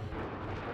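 A tank cannon hit in an 8v8 online battle video game lands as a brief, heavy, low rumbling boom that fills the whole short moment, with no voices over it.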